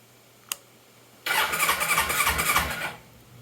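An engine cranks and catches, running for about two seconds with the throttle opened before it cuts off, loud and close, after a single sharp click.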